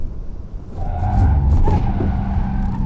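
A 2023 Nissan X-Trail e-Power in a moose-test dodge manoeuvre, front tyres sliding as stability control intervenes: loud rumbling road noise with a tonal tyre squeal building and holding for a couple of seconds.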